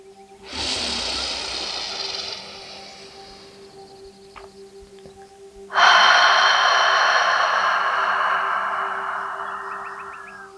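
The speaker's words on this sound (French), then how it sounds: "Et expire bouche ouverte pour te déposer et relâcher." Two long, loud breaths pushed out through an open mouth during a guided morning meditation, each a broad airy whoosh, the second stronger and sustained, with no talking over them.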